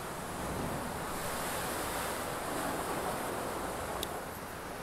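Ocean waves crash and surge against the Algarve cliffs in a continuous, loud roar of surf, with wind noise across the microphone and no voices.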